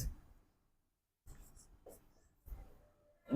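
A pen scratches out a handwritten chemistry example in short bursts of writing separated by pauses, close and quiet, with a brief breath or murmur in between.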